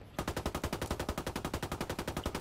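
Automatic gunfire in the video game Ghost Recon Wildlands, a long, rapid, evenly spaced burst of loud shots starting abruptly and running without pause, with no talking.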